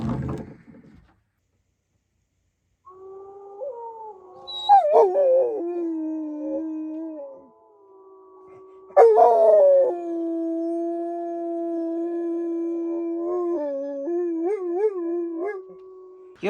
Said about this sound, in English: you can hear Kenai barking